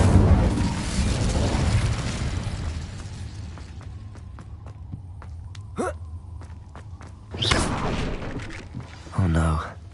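The Incendio fire spell from Hogwarts Legacy bursts out in sharp, fiery pops and whooshes, three distinct blasts spaced a couple of seconds apart over a quiet, low ambient background after a louder opening.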